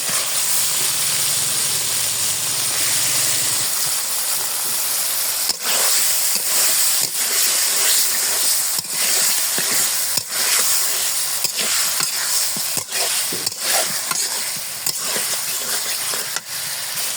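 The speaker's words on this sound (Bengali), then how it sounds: "গজার মাছ রান্না করবো, ভালো করে ধুয়ে নিয়েছি। এখন আস্তে আস্তে মাছ দিয়ে দিব।" Gazar fish (snakehead) sizzles loudly as it goes into hot oil and spices with turmeric in a pan, a steady dense frying hiss with repeated sharp crackles and spatters, close and continuous throughout.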